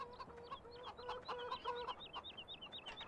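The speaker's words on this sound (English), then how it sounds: "It looks like that rooster just laid that egg." Rooster clucking in the farming video game Farming Simulator 17, a rapid series of short, chattering clucks in steady bursts, fairly faint and alone with no talk over it.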